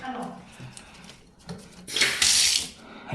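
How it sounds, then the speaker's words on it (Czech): Cold water from a tap connected at a bathtub runs into a blocked drain during drain cleaning, a hissing splash that rises loudly toward the end, with a voice speaking briefly over the start. "Pustil jsem do toho vodu."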